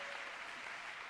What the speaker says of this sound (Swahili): Omchapie Bwana makofi.